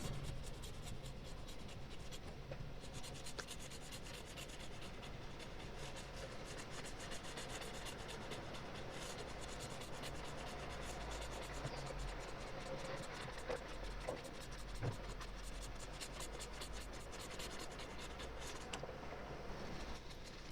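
A pencil shades an apple drawing on paper in a soft, continuous rubbing scratch, close and quiet, with a steady rhythmic back-and-forth texture and no voices.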